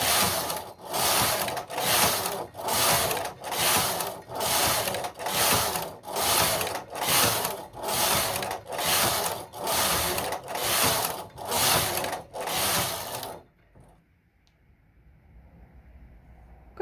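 A Singer knitting machine's carriage is pushed back and forth knitting rows of tuck stitch, making loud, close, even swishing passes about once a second for roughly thirteen seconds before stopping into quiet room noise.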